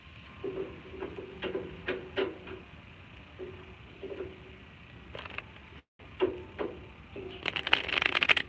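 Tarot cards are shuffled by hand, with soft riffles and taps in irregular bursts, quiet and close, ending in a denser flurry of card noise.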